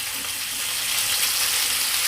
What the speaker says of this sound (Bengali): মাছগুলোকে এখন ভেজে দেওয়া হচ্ছে